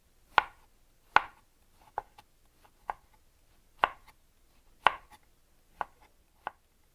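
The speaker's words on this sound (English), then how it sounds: "I'm going to just slice it into slices." A knife slicing an onion on a cutting board, with eight sharp, separate knocks at an uneven, unhurried pace against a quiet background.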